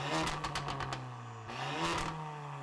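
An Audi Q3 with a new downpipe, Stage 2 tune and Akrapovic exhaust tips gives two sharp, loud rev blips close by, with a raspy exhaust note and crackle between the pulls.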